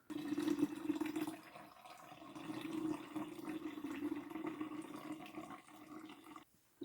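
Water pours steadily into a homemade laundry mixture of black soap and linseed oil, a continuous close splashing fill that runs for several seconds, then cuts out briefly before the end.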